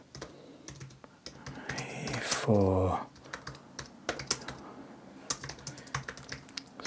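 Rapid keystrokes on a computer keyboard as a prompt is typed, scattered irregular clicks close to the mic running through most of the stretch, with a brief burst of another sound partway in.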